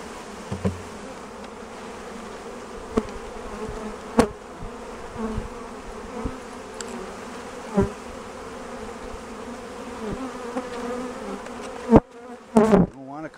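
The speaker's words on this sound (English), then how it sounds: "Now we're going to dump bees in." A dense, steady buzz of many honey bees fills the air up close as a bee package is dumped into a hive, with occasional thumps and knocks and a brief clatter near the end.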